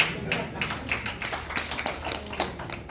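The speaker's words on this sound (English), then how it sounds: "the clapping was rather weak" Sparse, thin clapping from a small audience at a UNDP sponsorship event for women's maiden flight; light, scattered hand claps, moderately distant, with some background murmur.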